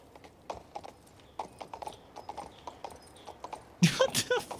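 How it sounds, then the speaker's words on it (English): Horse hooves clip-clopping across a bridge in King's Bounty II, a steady run of distinct, fairly close hoof strikes that ends in a louder, busier burst of sound. "The horse is on the bridge. And can it be mounted?"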